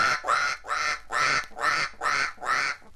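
A performer imitates a duck on stage, giving six evenly spaced nasal quacks in a quick steady rhythm, close and clear with no other sound.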